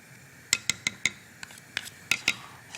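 A spoon stirs simmering soft tofu stew in a pot with a series of sharp clinks and taps against the rim. About ten distinct knocks come in an uneven rhythm over a quiet background, close and clear.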